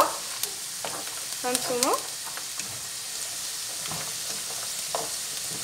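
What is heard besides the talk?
almonds frying in a pan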